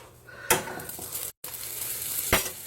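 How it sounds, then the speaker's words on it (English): Butter sizzling in a hot pan while making grilled cheese, a steady close hiss with two sharper bursts of crackle and a brief clean break in the middle. "So I'm going to get a little bit more butter to put in the pan."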